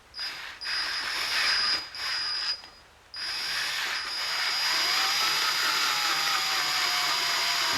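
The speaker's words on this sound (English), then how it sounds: "watching me drill this crooked" A power drill whines loudly in short bursts, stopping and restarting, then runs steadily with a grinding pitch that slowly drops as it drills into the metal of a 512 stroker engine block.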